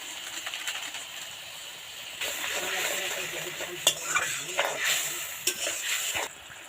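A homemade paneer curry in thin, boiling gravy with chili powder is stirred in a pan, scraping spoon strokes and clinks over a soft simmering sizzle, louder in the middle.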